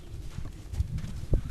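A spotted horse stud, bred from spotted ponies and Tennessee walkers, clip-clops on its hooves in a few uneven, close thuds over a quiet background.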